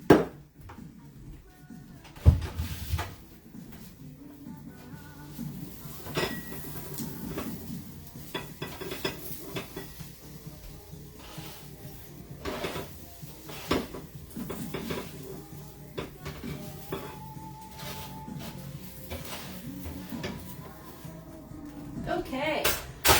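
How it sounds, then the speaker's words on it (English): Hot roasted vegetables, including fennel, are moved into a bowl in a home kitchen with scattered clinks and knocks of utensils against dishware, soft scraping, and quiet pauses between the sounds. "I'm trying to put my roasted vegetables in a bowl."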